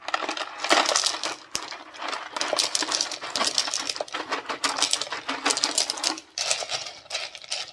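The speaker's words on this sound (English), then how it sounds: "So we'll use that to fill the barrel this week." Red jasper rocks tumble and clatter into a 12 lb rock tumbler barrel, a dense, continuous rattling of hard stones clinking together, fairly close, with no talk.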